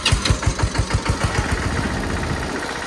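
A small tractor engine runs close by, chugging in a steady, loud, pulsing rhythm that settles into an even idle-like rumble, with no voices.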